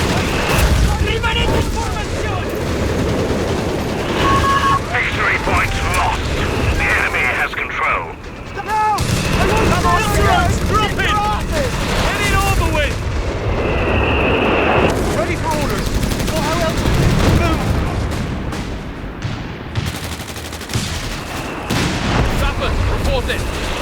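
Company of Heroes 3 battle sounds pile up: booming artillery and explosions mixed with rattling gunfire, dense and loud throughout, with in-game voice lines shouting over the combat.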